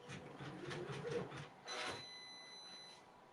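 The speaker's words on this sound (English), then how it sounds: "I'm going to put the presser foot down and let it stitch" A sewing machine stitches a rhinestone design, a soft rapid mechanical whirring that runs for a couple of seconds and then gives way to a few brief high beeps, all faint and close.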